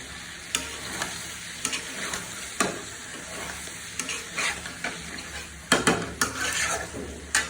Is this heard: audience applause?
no